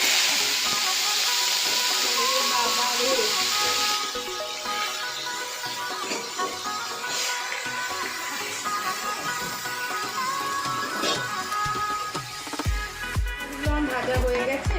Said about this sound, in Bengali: আমি এবার চিংড়ি মাছগুলো দিয়ে ভেজে নেব